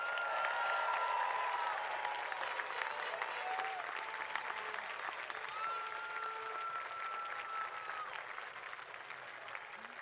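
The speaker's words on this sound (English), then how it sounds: "round of applause" Graduates at a university spring commencement ceremony applaud their families in a large hall, with broad, even clapping from a big crowd heard at a distance and scattered cheers or whistles above it.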